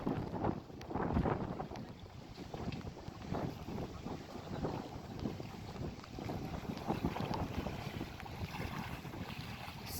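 A boat ride on Dudhani lake in Silvassa, over deep water with wind-driven ripples: a continuous low rumble of water and wind buffeting the microphone, with soft splashing swells and no talking.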